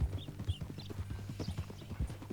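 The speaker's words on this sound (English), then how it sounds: "That a new horse?" Horse hooves clip-clopping in the video game Red Dead Redemption 2, a quick, steady run of close hoof strikes with a rhythmic gait.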